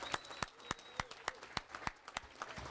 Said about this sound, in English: so let's give these guys a round of applause